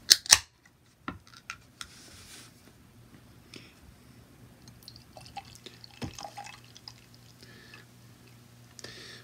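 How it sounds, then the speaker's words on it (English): A bottle of dark beer is opened with a sharp pop and hiss at the start, followed by quiet clinks and a soft, fizzing pour with scattered small knocks, close and without talk. "let's pop this open"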